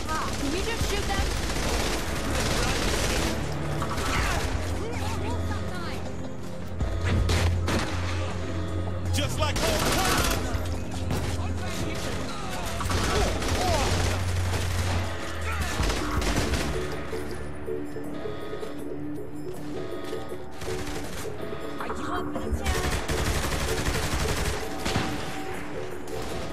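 Dense bursts of gunfire and rapid automatic shooting at snipers in the Saints Row 3 video game, loud and nearly continuous, with players talking over the shooting.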